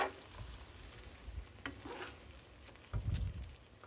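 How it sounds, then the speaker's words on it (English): Sauce bubbling in a shallow pan, a quiet, faint simmer with soft irregular pops and a few clinks of a utensil, heard alone without voices. "That's going to boil off really quickly because we have a nice shallow pan here."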